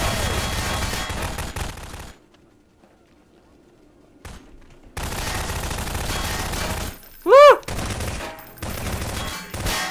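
Bursts of rapid gunfire in Garry's Mod Prop Hunt, loud and dense, broken by a couple of seconds of near silence, then more firing with a sharp rising whoosh.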